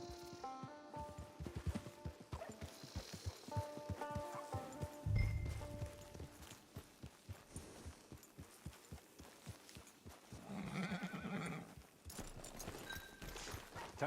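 Horse hooves clip-clop steadily in Red Dead Redemption 2 Online, a rhythmic run of soft thuds over quiet game music and ambience, with a brief louder whoosh midway and no clear neigh.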